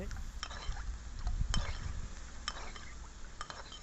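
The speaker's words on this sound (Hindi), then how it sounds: "इसको अच्छे से यहाँ पर मिक्स कर लेना है आपने।" A spoon stirs corn starch into a thick masala in a pan, with steady scraping and occasional metallic clinks against the pot under faint background noise.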